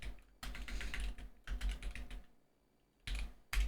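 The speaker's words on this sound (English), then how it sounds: "Don't look at my typing skills." Rapid typing on a computer keyboard, close and clear, in bursts of quick key clicks separated by short pauses, with a final few isolated keystrokes and no talking.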